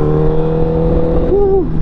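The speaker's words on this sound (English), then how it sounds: "Listen to that bike. We got an SC Project exhaust on there. Too goddamn loud." A 2012 Honda CBR1000RR sport motorcycle fitted with an SC Project exhaust revs loudly up close, a harsh, steady engine drone that briefly rises in pitch and then falls back.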